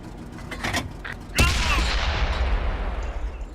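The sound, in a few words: tank cannon shot fired at Super Pershing in video game World of Tanks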